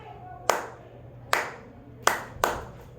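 Four crisp hand claps beat out a rhythm for a classroom rhythm game, two spaced slowly and then a faster pair close together, loud and near against a quiet background.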